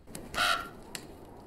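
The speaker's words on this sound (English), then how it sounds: "Crows are all liars." A crow caws in a fantasy TV drama, two harsh calls, the first longer and louder, the second a brief, fainter croak, with no talking over them.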